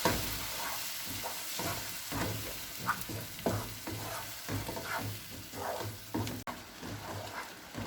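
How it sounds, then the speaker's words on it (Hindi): A spoon stirs red chili, garam masala, turmeric and salt into a spice paste in a pan for chole. Close, steady scraping strokes repeat in a regular rhythm over a soft frying sizzle. "गरम मसाला, हल्दी और नमक। अब इन्हें अच्छे से मिक्स कर लेंगे।"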